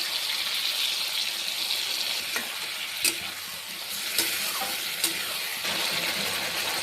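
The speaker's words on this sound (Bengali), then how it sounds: "এবার ঝিঙে আলুর সাথে মশলাটাকে আমি ভালো করে কষিয়ে নেব" Spice paste frying with ridge gourd and potatoes in a pan, a dense continuous hiss of sizzling oil with a handful of sharp stirring clicks, close and with no talking.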